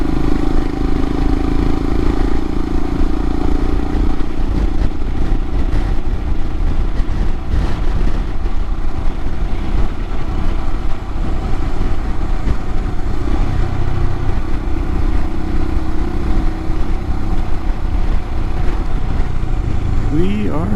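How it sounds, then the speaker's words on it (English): A 2022 Royal Enfield Himalayan motorcycle with a Hitchcocks carburetor conversion bogging under load, a loud, continuous single-cylinder engine drone with a resonating airbox note and some clatter, heard close up while riding. "Which turns into a weird resonating bog through the airbox."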